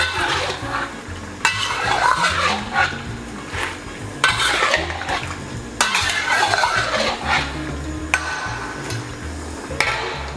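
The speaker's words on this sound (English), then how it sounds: "we're just going to slowly add a bit of that coconut milk in at a time" Coconut milk is poured a little at a time into curry in a pan, heard as repeated metal spoon stirs and clanks against the pan over a soft sizzle, with sharp scraping bursts every couple of seconds.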